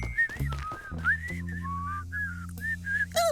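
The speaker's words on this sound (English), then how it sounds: "whistling casually" A cartoon character whistles a casual, wandering tune of short rising and falling notes, clear and close, over a soft sustained musical backing.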